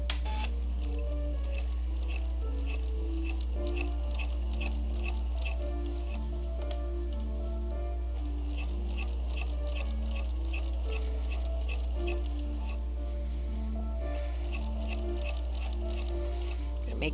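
A sewing machine stitches up both sides of a dress with a steady, rapid mechanical ticking over a constant motor hum, running without a break at close range.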